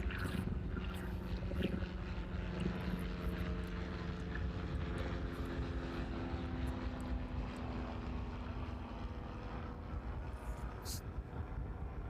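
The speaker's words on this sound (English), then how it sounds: "So that Beechcraft just on the threshold for runway 27 now." Beechcraft aircraft engine at the runway 27 threshold at East Midlands Airport, a steady, droning propeller hum heard from a distance under gusty crosswind noise.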